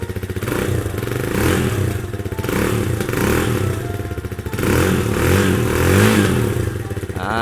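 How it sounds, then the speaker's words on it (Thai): A 2020 GPX Legend 150 FI motorcycle with its stock exhaust idles close by, a steady low throbbing thump with mechanical clatter and gentle swells in revs, soft and even throughout. "มาฟังเสียงท่อเดิมกันหน่อยดีกว่านะครับ สตาร์ทติดทีเดียวรู้เรื่องเลยนะครับ"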